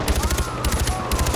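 Rapid bursts of mounted machine gun fire in Far Cry 4, loud and close, rattling in repeated volleys with brief gaps between them.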